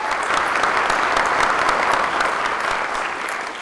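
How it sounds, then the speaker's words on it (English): A live audience breaks into steady, dense applause at a talk about child marriage, the many hands blending into a continuous wash that holds strong before easing slightly toward the end, with no voices on top. "don't applaud yet"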